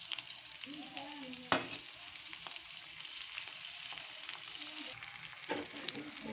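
Ginger-garlic paste and green chillies fry in a pan while being stirred, a soft steady sizzle with scattered crackles and a couple of sharp utensil knocks, fairly faint and close.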